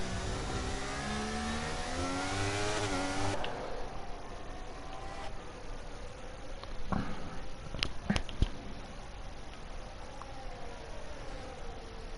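Formula 3 race cars in a sim racing game at Qatar, Ferraris among them, with engines revving and sweeping up through the gears in the opening seconds, then a steadier, quieter engine drone with occasional sharp clicks.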